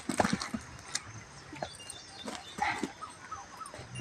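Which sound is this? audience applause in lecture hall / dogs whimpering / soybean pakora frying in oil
dogs whimpering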